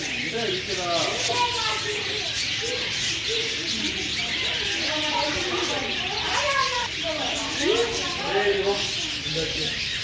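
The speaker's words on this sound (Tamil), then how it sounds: "ஒரு ஒரு கிளையிலையும் அவ்வளோ பறவைகள் இருக்கா பாருங்கள்" Many birds calling in a bird park, with pigeons cooing among a busy mix of chirps and tweets, steady and fairly close, while a person talks over them.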